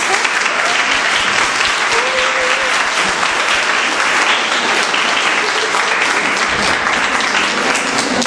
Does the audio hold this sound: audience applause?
yes